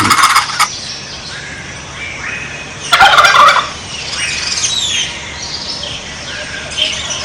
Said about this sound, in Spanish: sino de una familia de pavos ocelados iridiscentes